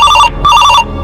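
A telephone rings in two loud, close bursts of bright trilling bell tone separated by a short gap.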